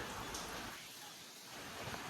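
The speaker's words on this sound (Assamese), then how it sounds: "ৰাতিপুৱা বৰষুণ চাওক, পূৰা একদম হাৱা বৰষুণ দুটা একেলগতে" Steady morning rain driven by wind, a continuous broadband hiss of falling water that dips slightly midway, with no voices present.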